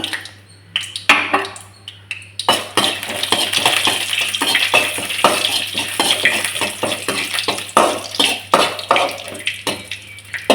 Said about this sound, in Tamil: இது எல்லாமே பொரிஞ்சிருச்சு.